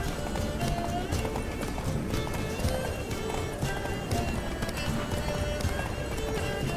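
Roach, Geralt's horse in The Witcher 3: Blood and Wine, gallops with steady, rapid hoof clip-clops close by, a brief whinny rising over a dense game soundscape of ambience and music.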